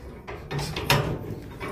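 Feed door on a custom-built horse pen swung open by hand, giving a few clanking, scraping metal knocks close by outdoors, with no talking.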